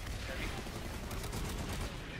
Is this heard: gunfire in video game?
yes